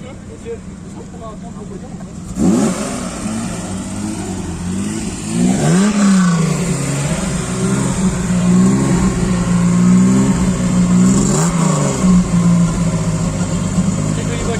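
A rally car at a gathering in La Roche-sur-Foron, France, revs and accelerates repeatedly, the engine note rising and falling in loud sweeps over a steady rumble, with people talking nearby.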